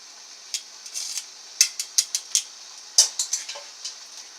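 Bowls and cutlery clink and tap in a scattered run of light, sharp knocks as Kuay Tiew noodles and hot soup are portioned into a bowl, fairly close, with no talking.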